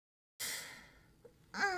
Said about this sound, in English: I was yawning.